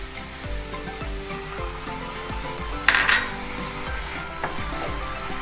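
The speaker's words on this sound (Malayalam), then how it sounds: "ഇനി നമുക്കിതിലേക്ക് ചിക്കൻ സ്റ്റോക്കും കൂടി ഒഴിച്ചു കൊടുക്കാം" Chicken stock is poured into a hot, sizzling pan of chicken sandwich filling, giving a steady close frying hiss with a brief splashy burst midway and soft utensil clinks and stirring scrapes throughout.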